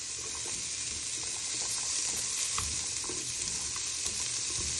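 Vegetables and chopped tomatoes fry in a pan with a steady, close, even sizzle that hardly changes from start to finish, with no voices.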